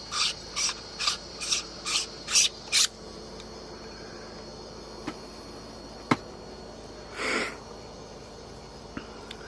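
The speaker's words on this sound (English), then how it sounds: "That funny noise is me screwing the cap back on." A cap screwed back on at night on an outdoor dark-sky farm during telescope setup: seven quick, evenly spaced rasping scrapes close by, then near silence broken by a couple of faint clicks and one softer rasp later.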